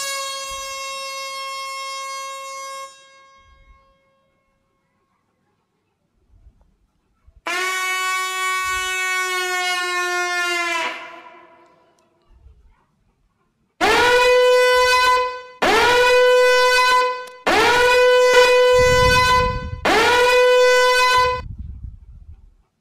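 Several horn samples from a 2023 sample loops pack play one after another: a long held tone, a second blast with a falling tail, then four loud repeated bursts of a siren-like air horn, each sounding alone with gaps of silence.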